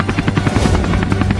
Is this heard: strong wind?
no